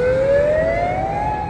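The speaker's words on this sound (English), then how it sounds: "An evacuation siren on the streets of Reddington Shores in Florida." A loud evacuation siren wails in a slow rising sweep on a street in Redington Shores, Florida, before a hurricane, steady and close, over a low rumble of traffic.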